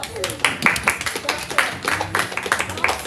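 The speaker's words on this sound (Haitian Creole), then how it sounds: "On applaudit d'Orsainville." Audience applause for Sergeline Abigail d'Orsainville at an evening event: steady clapping from many hands with uneven bursts, mixed with a host's voice and some crowd chatter.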